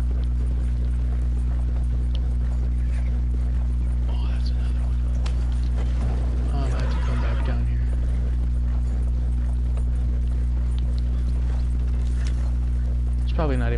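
Horse hooves clip-clop steadily in Red Dead Redemption 2, a rhythmic trotting under a constant low hum, with a brief whinny-like sweep near the end.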